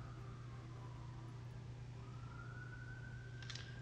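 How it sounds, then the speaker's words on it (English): A distant siren wails, its pitch slowly dipping then rising, faint and steady beneath a constant low hum. "If you hear the sirens in the background,"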